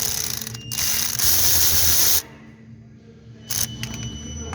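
A ratchet loosens a 10mm bolt on a Toyota Camry Hybrid 2.4L during a thermostat replacement, giving a close, loud run of rapid clicking that stops, then resumes briefly.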